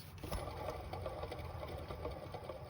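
A noisy car alternator runs with a fast, faint mechanical whirring and rattling chatter, steady and continuous, over a low engine rumble.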